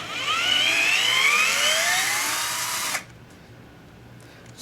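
A Black & Decker 12 volt LDX112 drill runs at high speed for about three seconds, a loud close whine that slowly drops in pitch, then stops abruptly, leaving faint room noise.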